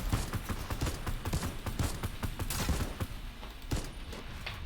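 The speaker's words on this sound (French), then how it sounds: "Je mets une balle au gars qui t'a attaqué." Gunfire in a video game, a dense scatter of sharp shots and impacts over continuous game noise, fairly close and busy, with no clear talk over it.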